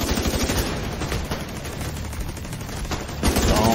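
Dense, continuous gunfire from The Division 2 video game rattles through the whole stretch, rapid shots blending into a loud, busy wall of combat noise with no talking.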